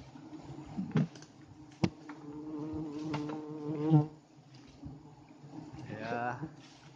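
Steady buzzing of honey bees during honey harvesting from a young hive runs throughout, with a few sharp clicks and taps and quiet voices talking underneath.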